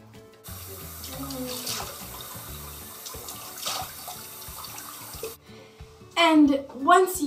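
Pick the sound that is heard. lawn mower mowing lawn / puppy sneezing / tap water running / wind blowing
tap water running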